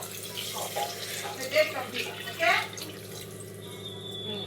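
Water is poured from a glass onto basmati rice for a chilli dal khichdi, making a steady close splashing and rushing that swells briefly twice, with no voice over it.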